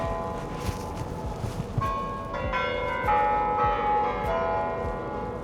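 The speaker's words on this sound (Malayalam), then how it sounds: "പള്ളിമണി" Church bells ring out in Moscow, Russia, with several ringing tones stacking up after a quiet start amid distant city noise.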